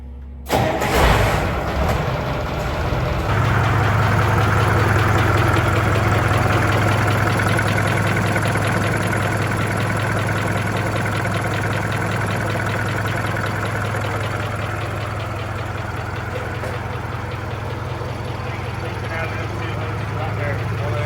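An old cabover truck engine cranks and catches, then settles into a loud, steady idle rumble that runs on continuously, with people talking over it.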